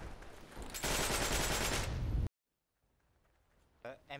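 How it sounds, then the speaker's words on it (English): An MG42 machine gun fires in a video game: a loud, dense burst of about a second and a half that cuts off abruptly into near silence, followed by a brief voice at the end. "MG42, I hear it somewhere near."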